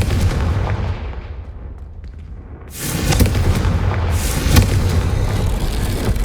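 A Confringo fire spell in the Hogwarts Legacy game goes off as a loud, close booming blast with a rumbling roar that swells after a brief quieter lull and sustains, with no voices over it.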